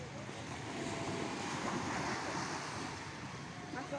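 Surf washes onto Pantai Mutiara beach at Prigi, Trenggalek, East Java, as a steady broadband roar with wind buffeting the microphone throughout.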